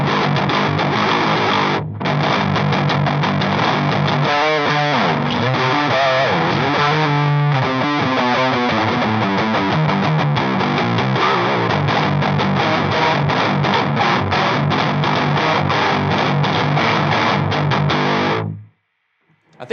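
Guitar through a Behringer HM300 distortion pedal dialed to a 90s Swedish death metal tone, with heavily saturated, buzzing riffs played continuously and very loud for nearly twenty seconds before cutting to silence.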